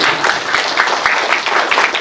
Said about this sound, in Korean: 그럼 박수들 한번 치고 그래야죠.